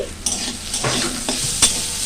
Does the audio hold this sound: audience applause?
no